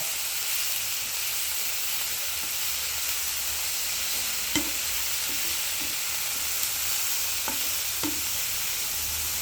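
Curry leaves and tomato sauté in a pan, giving a constant close hiss of frying with a few sharp spatula taps and scrapes, no voices.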